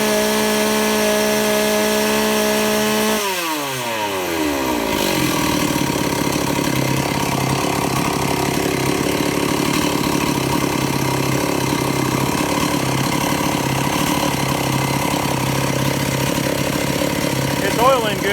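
A Stihl 038 Magnum chainsaw fitted with a Tillotson carburetor changes pitch as the engine drops, then settles into a steady, loud idle that runs close by for the rest of the stretch.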